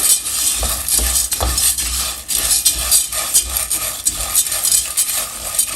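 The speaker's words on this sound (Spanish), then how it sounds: "Vamos a estar aquí dorando poco a poquito con la flama bajita para que no se nos vaya a quemar" Steady sizzling from a pan over low flame, close up, with occasional scrapes of a utensil stirring the browning food.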